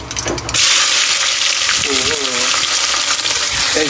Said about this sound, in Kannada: ಗೈಸ್ ಇವಾಗ ಈರುಳ್ಳಿ ಹಾಕ್ಬಿಟ್ಟು ಇದು ಒಂದು ಸ್ವಲ್ಪ ಬ್ರೌನ್ ಕಲರ್ ಬರೋವರೆಗೂ ಹುರ್ಕೋಬೇಕಂತ